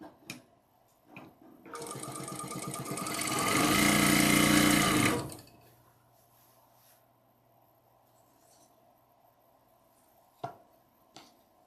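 A sewing machine stitching together lined-up fabric pieces runs in one loud, fast continuous burst of a few seconds, then stops, leaving a faint hum and a couple of quiet clicks.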